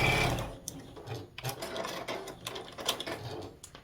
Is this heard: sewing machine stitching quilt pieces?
yes